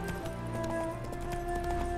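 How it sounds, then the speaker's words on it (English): Hooves clip-clop rapidly and steadily as a horse gallops in The Witcher 3, a continuous rhythmic drumming with a faint background of game ambience and no voices. "You're basically the fastest horse in all of Velen and Novigrad and Skellige."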